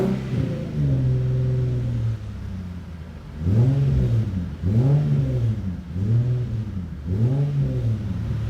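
A Nissan VQ37VHR car engine revs repeatedly during coolant bleeding, its pitch swelling up and falling back about four times in a steady rhythm, close by with no talking.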